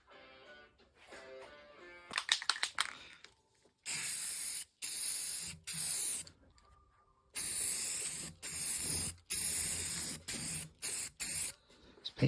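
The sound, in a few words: spray painting the inside of a headboard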